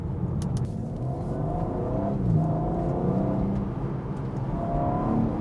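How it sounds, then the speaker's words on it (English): A BMW M2's straight-six engine revs and pulls steadily, a smooth continuous growl rising in pitch as it accelerates, loud and close. "There's just something about a BMW straight six engine"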